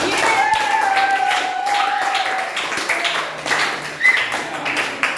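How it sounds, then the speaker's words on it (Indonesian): A class of students claps together in a classroom during an Indonesian language lesson, with scattered taps and claps running under voices for several seconds. "Beri tepuk tangan untuk kita semua."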